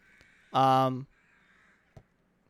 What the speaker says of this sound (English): You can hear crows. I can hear crows,